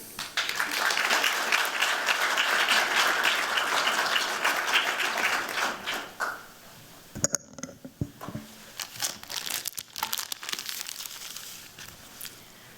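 Sustained audience applause for a lecturer coming to the podium at the Aga Khan Program evening lecture, a dense steady clapping that fades after about six seconds into scattered rustling and handling noises.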